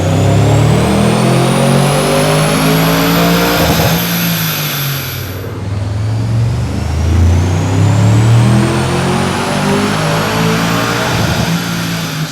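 An Audi C8 RS6 held on a dyno revs hard through two long loud pulls, the engine note climbing steadily with each gear, then dropping away between them, close and continuous with no talk.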